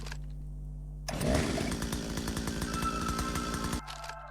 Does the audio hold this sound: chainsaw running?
yes